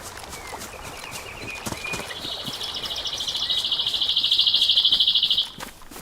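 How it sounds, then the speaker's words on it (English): A nearby bird in an open outdoor setting calls loudly, rising into a rapid, high trilling series that grows louder over several seconds before stopping abruptly, with faint background ambience beneath. "Oh, that bird's loud."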